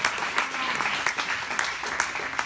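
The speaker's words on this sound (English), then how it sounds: "Give him a big round of applause." Audience applause at a fair maps party celebrating democracy in Wisconsin, a dense continuous clapping that swells with a few sharper peaks, fairly close, with scattered cheering voices mixed in.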